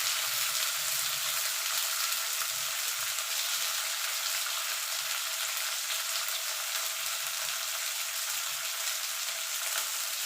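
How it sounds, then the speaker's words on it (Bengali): Chopped onion, ginger, garlic and tomato fry together in hot oil for an egg curry, giving a dense, even sizzle that hisses steadily and close up for the whole stretch, with no voices. "এবার এগুলো একসঙ্গে একটু ভাজা ভাজা করে নেব।"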